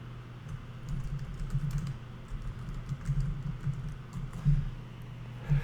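Typing on a computer keyboard during a WordPress screencast: bursts of soft, irregular key clicks close to the microphone, heard alone over a steady low hum.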